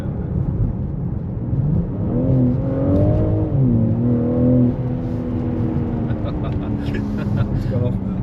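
A BMW M3 G80 engine revs briefly, its pitch rising and then falling in a smooth sweep over a steady running drone, close up, as people talk over it.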